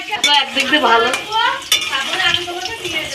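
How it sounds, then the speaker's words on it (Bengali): Potatoes fry with salt in a pan as mutton curry is prepared, with loud, close spatula scraping and stirring against the metal over a quieter sizzle, no speech. "লবণ দিয়ে আলুটা ভাজবো"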